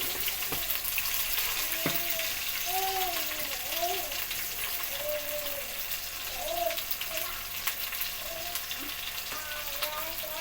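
Curry leaves sizzle and crackle in hot oil in a home kitchen pan, a steady bright hiss with small pops, while stirring bits sound faintly beneath.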